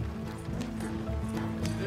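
Horse hooves clip-clopping at a steady trot in Red Dead Redemption 2, with several rhythmic clops under a low rumbling game ambience.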